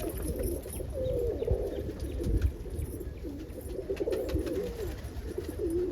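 Almond pigeons coo outdoors, giving soft repeated low calls close by, with faint background hiss and no talk.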